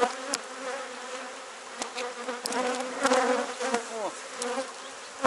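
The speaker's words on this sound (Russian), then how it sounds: "Пчелы атакуют нам наш..." Honey bees buzz loudly and continuously around hive frames near the end of the nectar flow, with individual bees whining past close by and a brief spoken word.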